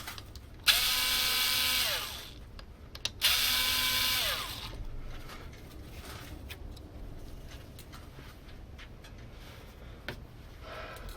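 Screws being driven out of a clamp with a power driver or ratcheting tool, two loud whirring bursts of about a second each, followed by quieter handling and clicking noises.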